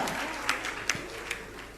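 Audience clapping at a Jain religious question-and-answer gathering, a moderate spread of hands with a few sharper claps standing out, fairly steady throughout and without talk over it.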